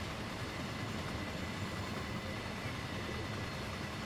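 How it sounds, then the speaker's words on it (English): A long train in Train Sim World 5 rumbles along steadily as a dense, continuous rolling roar with faint rail clatter, fairly quiet and without any talk. "It's quite a long train"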